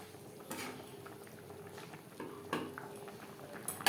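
Prawn malai curry gravy bubbling gently in a pan, a soft continuous simmer with scattered pops and a few sharper clinks near the end, heard alone without talk.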